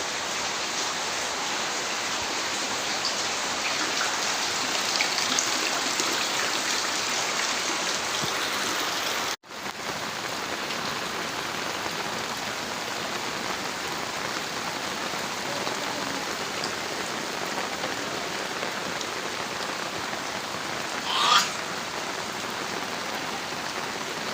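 Heavy rain in Gazipur pours steadily, flooding roads and houses, a dense, constant hiss of downpour on surfaces throughout, with one brief dropout partway and a short splashy burst near the end, no voices.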